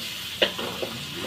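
Onion and garlic fry in a pan while being stirred, giving a soft ongoing sizzle and hiss. A couple of brief scraping or clinking touches of the utensil against the pan stand out along the way.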